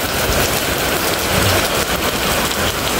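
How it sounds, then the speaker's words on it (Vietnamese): Heavy first rain of the season pours down in Tan Long commune, Phung Hiep, Hau Giang, a loud, dense, unbroken hiss of rain on surfaces with a low rumble underneath and no voices. "cho bà con xem cây mưa đầu mùa ở xã Tân Long"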